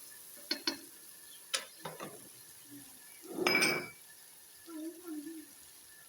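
A spoon stirs crushed pomegranate seeds into cooked masala in a pan, a few sharp metal clinks followed by a longer scraping stir, quiet and close.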